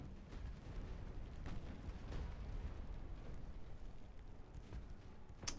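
Naval gunfire in the warship game Ultimate Admiral: Dreadnoughts, deep rumbling booms rolling over one another beneath a constant low roar, with sharper shots cracking through now and then.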